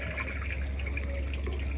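Steady running water from a faucet inside a Coachmen Nova 20C RV, a continuous close hiss and trickle with no talking.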